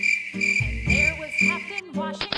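Shrill, rapid cricket chirping repeats in close, loud bursts over a low droning hum, ending with a few quick high chirps.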